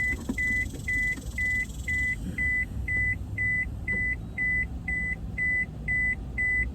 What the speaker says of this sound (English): Oh, sorry about that beeping.